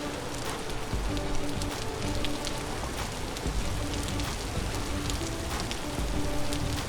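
Steady, dense rain pours down during a storm, an even wash of drops hitting surfaces with no break or voice, moderately loud and close.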